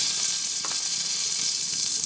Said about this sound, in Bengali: সাদা জিরেটা ভাজা হচ্ছে